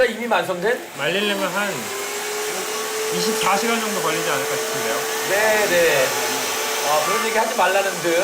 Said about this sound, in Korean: 지금 믹서기를 아주 심하게 돌리고 있습니다.